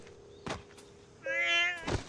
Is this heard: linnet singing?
no